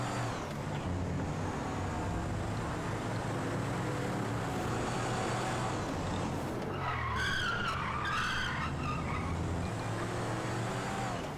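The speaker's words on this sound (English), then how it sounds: "I am pulling the e-brake, by the way, just to make the turns sharp here" In GTA5, a car skids through sharp e-brake turns, its engine roaring steadily as tyres screech and squeal loudly partway through, with no speech.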